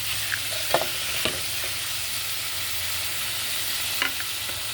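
Vegetables fry in a pan with coriander, peas, tomato and capsicum: a steady, soft sizzle with a few scraping clinks of a spoon stirring, close by and without voices.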